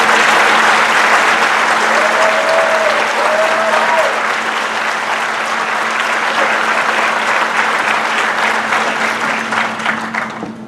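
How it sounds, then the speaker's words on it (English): A graduation audience at Mountain Education Charter High School applauding faculty and staff in 2018, loud sustained clapping from a large crowd over a faint steady hum, fading slightly at the end. "Let's give a round of applause for these dedicated."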